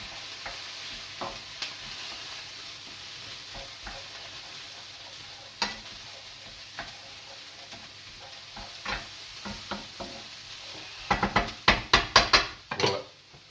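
Food stirred in a frying pan while a potato and tuna mixture sizzles, with a soft steady fry under scattered scrapes and taps that grow into a loud cluster of clattering strokes near the end.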